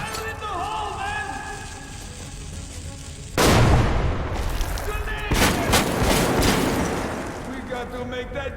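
A grenade blast and gunfire in Metro 2033 Redux: a sudden loud explosion breaks in after voices and game sounds, followed by sustained rumbling shots and debris as the noise slowly tapers.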